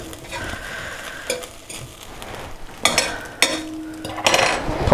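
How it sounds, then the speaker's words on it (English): Cooked rice stirred in a pot just taken off the heat, with soft scraping and a few sharper clinks of a utensil against the pot near the end, close and moderately loud. "Give it a little stir around."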